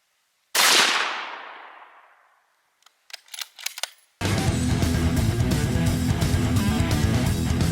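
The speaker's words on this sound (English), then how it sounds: "So first up is going to be the 223, and we're going to be shooting from 50 yards away." .223 rifle fires at a concrete block from 50 yards: one loud close shot with a long decaying echo, then a few sharp clicks and a sudden burst of dense, loud noise.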